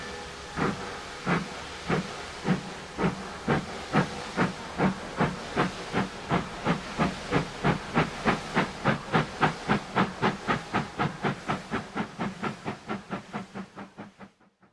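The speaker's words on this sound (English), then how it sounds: "another local, this one pulled by a BR-23 262 steam engine," BR 23 steam locomotive pulling a local train away northbound, rhythmic chuffs of hissing steam, starting slow and quickening into a steady beat before fading out.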